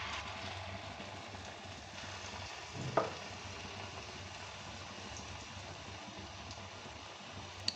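Battered paneer chops deep-fry in hot oil with a faint, low, even bubbling hiss, one soft clunk near the middle and a small tap at the end, with no talk.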